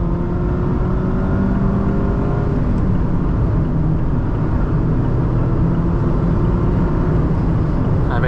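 A 2023 Mazda Miata MX-5 ND2 Club trim accelerates, its engine note a steady, loud drone with rising harmonic whine heard from inside the cabin, continuous throughout.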